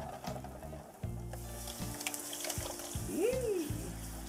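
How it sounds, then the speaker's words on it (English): Gravy of flour and French onion soup for Salisbury steak sizzles in a pan while a utensil stirs it, with soft scraping and clinks close by, and a brief voice-like tone near the end. "you just want to keep stirring that constantly"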